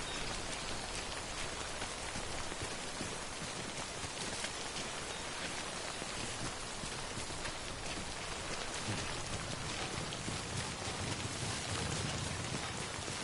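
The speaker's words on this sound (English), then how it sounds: "The rain is still coming down." Steady, dense rainfall in the game Death Stranding, a constant hiss of drops on surfaces filling the whole stretch with no voices over it.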